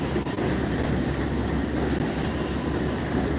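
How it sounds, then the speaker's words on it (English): A train rolls by outdoors on a sunny day, a loud, steady, continuous rumble of rail cars with faint clacking throughout. "See the trains. See the train keep going."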